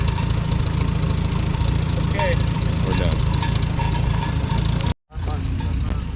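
An antique tractor engine chugs steadily at close range at a farm-days tractor rodeo, loud and continuous with a brief dropout near the end, while a person talks briefly over it.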